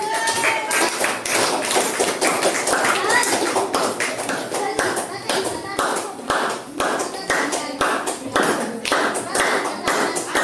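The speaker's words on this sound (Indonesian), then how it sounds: "Tepuk tangan untuk teman-temannya" Classroom of pupils clapping for classmates, dense continuous applause of many small hands lasting throughout, fairly loud and close, with some faint voices mixed in.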